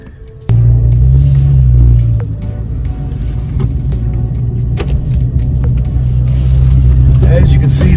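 A 2022 Ford Maverick pickup fitted with lowering springs pulls away hard, its engine surging into a loud, steady drone that eases slightly and then holds on the road.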